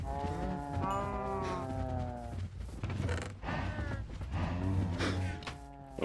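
Cows moo repeatedly in a video game farm pen, several long lowing calls overlapping one after another across the stretch, fairly loud and close with no talking over them.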